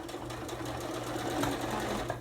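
Sewing machine restitching over an existing seam on a water bottle cover, a steady close whirring hum with fine rapid stitch pulses throughout, no talk.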